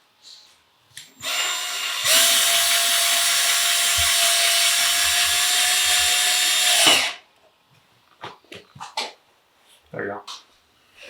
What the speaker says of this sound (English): These screws, I'm going to screw it into the stud.